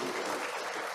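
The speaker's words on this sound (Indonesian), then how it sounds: "tepuk tangan dulu buat Anas ini" Applause from a government e-governance summit audience, a dense, steady wash of clapping filling the short moment with no voices on top.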